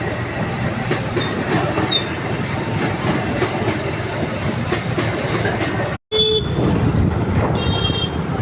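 A train rumbles steadily past nearby, loud and continuous, with a brief cut and a high horn-like tone near the end.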